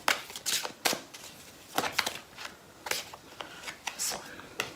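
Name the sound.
tarot card deck being shuffled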